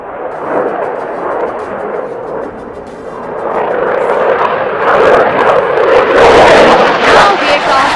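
Indian Air Force fighter jet flying a tight turn at the Aero India air show, a loud continuous roar that builds and swells as it passes, with crowd noise and a commentator talking over it.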